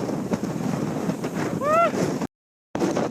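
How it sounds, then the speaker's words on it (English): Strong, freezing wind on a San Francisco hilltop buffets the microphone in a continuous roar, with a short bright tone rising briefly and a sudden gap of silence near the end. "Oh man, it is so windy and freezing up here."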